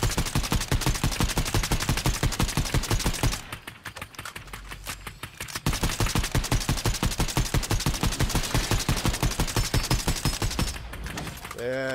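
Rapid automatic gunfire in the video game Fortnite, dense bursts of regular shots that pause briefly midway and then resume, loud and close.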